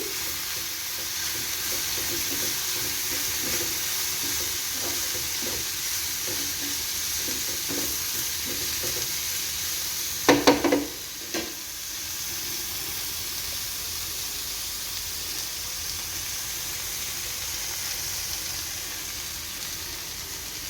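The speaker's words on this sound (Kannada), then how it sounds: "ಇದನ್ನು ಹಾಕಿದರೆ ಪಲ್ಯ ಎಲ್ಲ ಪಲ್ಯಗಳು ಟೇಸ್ಟಾಗಿರ್ತವೆ, ತಿನ್ನಕ್ಕೆ ಭಾಳ ರುಚಿ ಬರುತ್ತೆ ಈ ಪಲ್ಯ. ಅದಕ್ಕೋಸ್ಕರ ನಾನು ಇದನ್ನ ಹಾಕ್ತಾಯಿದ್ದೀನಿ. ಸ್ವಲ್ಪ ಫ್ರೈ ಮಾಡ್ಕೊತೀನಿ." Beetroot pallya fries in a pan with niger seed powder, giving a continuous close sizzle with soft stirring scrapes and one brief louder clatter midway, and no voices.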